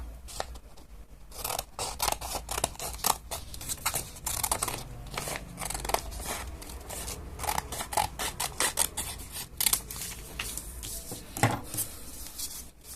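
Scissors cutting through folded paper for a paper action figure, with dense, repeated close snips and crisp rustling over about thirteen seconds and no voices.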